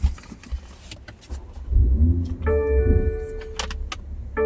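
A new BMW car being started, with clicks and rustles first, then a low engine rumble rising and settling, and bright electronic chime tones sounding over it.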